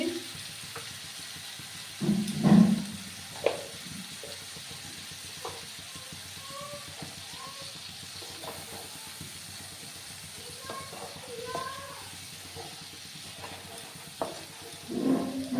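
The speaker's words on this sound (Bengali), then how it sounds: "যতক্ষণ না টমেটোর কাঁচা গন্ধটা যাচ্ছে ততক্ষণ আমি কষিয়ে নেব" Tomato with turmeric powder being sautéed in a pan, heard as a soft, steady sizzle with occasional spatula scrapes and stirring clatters, moderately close and fairly quiet throughout.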